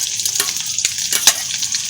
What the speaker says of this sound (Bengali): মাছ ভাজা বসাই দিয়েছি